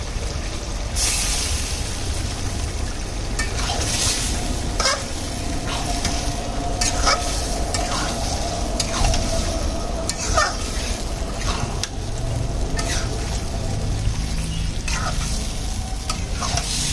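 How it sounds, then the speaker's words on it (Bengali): Pieces of layer hen meat sautéed in oil with a cooked-down spice paste for a spicy bhuna, a steady close sizzle with frequent scraping stirs and light clinks of a utensil against the pot throughout. "এখন দেখে রান্না করবো, মাংসটা সুন্দর করে কষাবো"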